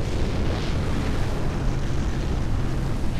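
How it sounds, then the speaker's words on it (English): Airstrike explosion in the video game Renegade X, a heavy rumbling blast with a dense low roar that sustains loudly for a few seconds. "Oops, someone did an airstrike."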